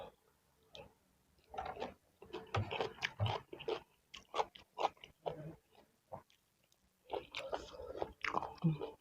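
Close, wet chewing and biting from someone eating spicy papaya salad with pork sausage and rice noodles, irregular bursts of mouth sounds with short pauses between them.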